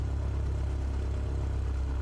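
Aircraft piston engine in Microsoft Flight Simulator 2024 with its RPM dropping as fuel is cut: a steady low drone close by, throbbing rhythmically and fairly loud, with no voices over it.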